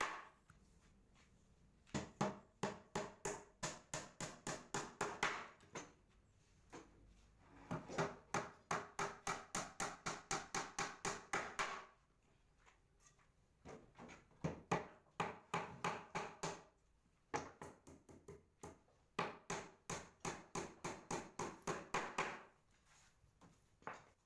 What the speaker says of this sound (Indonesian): pemasangan paku dengan menggunakan palu pada bagian sisi alas meja